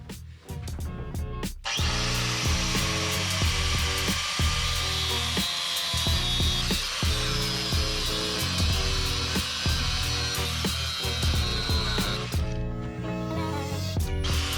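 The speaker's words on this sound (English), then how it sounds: "So we're gonna chop these off because it's... we don't know what else to do, really. Whenever you use an angle grinder, always have the guard on and safety glasses." An angle grinder with a cutoff wheel slices through metal on a 1984 Mitsubishi Jeep. After a brief start-up whine, it settles into a loud, sustained high-pitched screech with a steady motor drone, then spins down near the end.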